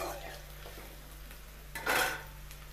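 Chillies and onions fry in a pan, giving a soft sizzle with scraping spatula strokes and a louder clatter of stirring near the end, over a low steady kitchen hum.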